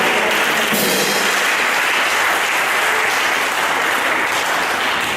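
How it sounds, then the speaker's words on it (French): Church congregation at a Sunday worship service applauding steadily, a dense, loud wash of clapping that fills the space for several seconds without pause. "Est-ce qu'on peut encore acclamer le Seigneur?"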